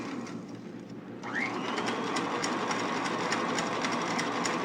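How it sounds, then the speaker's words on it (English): An electric mixer beats a hot-syrup meringue on low speed, a steady, close mechanical whir with a faint rhythmic churn that continues evenly and without voices. "the beater is put on low speed until the meringue has cooled"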